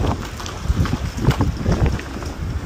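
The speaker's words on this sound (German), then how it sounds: "Komm, es ist windig." Gusty wind buffets the microphone in low rumbling bursts, steady throughout with no voices.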